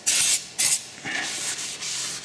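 Brake cleaner is wiped across a rear brake disc on a Dodge Grand, giving steady close rubbing and scrubbing strokes with two sharper swipes at the start, and no voices over it.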